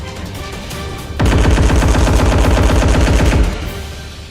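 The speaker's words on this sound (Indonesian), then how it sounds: "aparat keamanan terus melakukan penembakan" Sustained rapid automatic gunfire from security forces shooting at students, bursting in loud and dense after a quieter opening and continuing for a couple of seconds before easing off.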